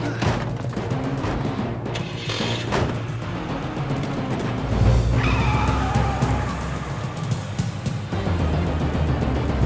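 A car speeds away with tires skidding, engine roar and squealing rubber rising and swelling midway, loud and close, with rough bursts and rumble filling the scene.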